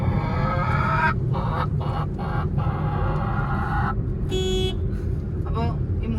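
A human voice imitates a hen cackling after laying eggs, giving a string of short pitched clucks and then a longer drawn call, over constant loud background noise.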